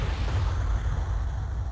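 A cannon fires in the video game Gundam Battle Assault. It is a sustained, rumbling blast with heavy low end that stays loud for nearly two seconds, and no one speaks over it.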